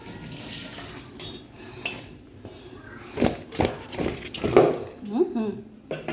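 Cut mangoes are washed in water, with splashing, sloshing and clinks from a bowl or pan under nearby talk; the water sounds grow busier toward the end.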